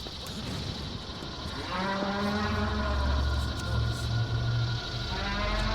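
Low, drawn-out mooing from creatures in Metal Gear Solid 4 on PlayStation 3, a steady moan rising in the second half over a droning engine-like background.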